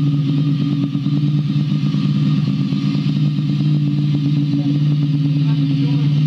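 A Ducati Monster motorcycle engine runs loud and close, a steady mid-pitched rumble with rattling clatter as the bike is taken out for a test ride.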